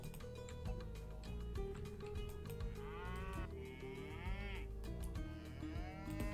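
Cows low in several drawn-out moos in the strategy game Age of Mythology Retold, over a steady bed of game ambience and rhythmic ticking.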